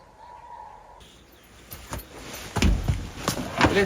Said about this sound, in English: It is crazy how much the birds are singing right now.